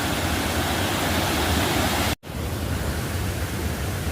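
A village drinking-water spring runs in a hillside stream channel, giving a loud steady rushing flow with a brief gap about halfway through.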